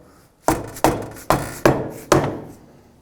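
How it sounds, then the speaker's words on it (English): Five sharp, evenly spaced knocks of a rubber mallet tapping a front wheel hub and bearing assembly into place on a 2007-2013 Acura MDX, close and loud, each blow ringing out briefly. "with a rubber mallet, we can continue to put a little forward pressure on our axle and evenly tap in"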